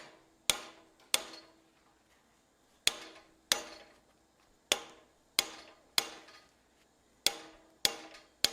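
Metal hammer blows peening over a hot tenon in medieval-style smithing, about ten sharp, ringing strikes at an irregular pace, each one loud and close with a short decay, and no talking.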